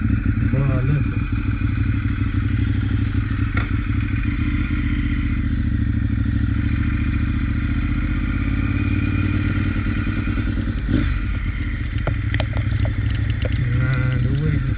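A Ducati 848 EVO superbike engine runs with a loud, deep, continuous throbbing rumble close by throughout, with some clattering and wind buffeting over it.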